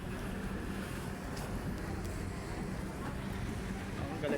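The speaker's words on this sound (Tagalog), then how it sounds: "Lakas ang alon." Heavy, churning sea waves roll steadily beside a rooftop, a dense continuous wash of surf mixed with wind buffeting the microphone, with no clear breaks throughout.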